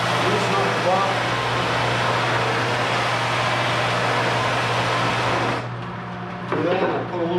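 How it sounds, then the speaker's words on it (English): A buffing wheel spins steadily in a guitar workshop, a loud continuous whir with a steady low hum that drops briefly near the end before picking back up. "Okay, so I got my buffing wheel going."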